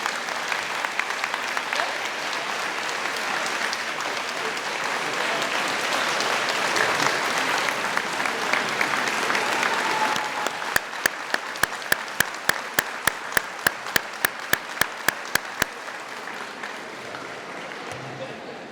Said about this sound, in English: another round of applause for Mr. Peter Gray